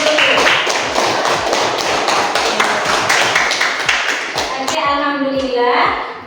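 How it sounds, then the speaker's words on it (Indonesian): Children in a classroom clap together in a quick, steady rhythm of evenly spaced claps for several seconds, then stop as a voice speaks. "terima kasih tepuk tangan dulu"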